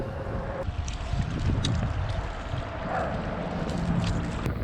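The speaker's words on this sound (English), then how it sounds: "So the wind is probably gonna destroy my audio." Wind blows across a lakeshore and buffets the microphone, producing a continuous low, rough roar with faint gusty swells and no speech.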